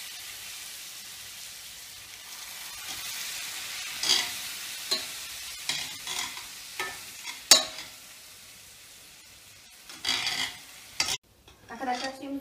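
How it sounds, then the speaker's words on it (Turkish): A spoon stirs rice for pilaf in a cooking pot on the stove, a soft sizzling bed broken by a string of scraping, clinking strokes that grow busier toward the end, close and with no talk. "İyice karıştırıyoruz."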